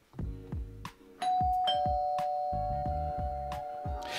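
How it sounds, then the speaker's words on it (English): Doorbell ringing with several ding-dong chimes, the last tone ringing out and sustaining over a low background hum, heard alone with no voices. "as the doorbell rang"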